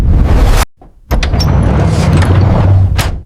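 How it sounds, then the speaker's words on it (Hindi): In a cartoon, a heavy door is pushed open, heard as a loud, broad rushing scrape that cuts out briefly and then resumes as a long grinding slide with a few sharp clacks. There is no talking. "मोटू ने जोर लगाकर दरवाजा धकीला। वो आहिस्ता खुल गया।"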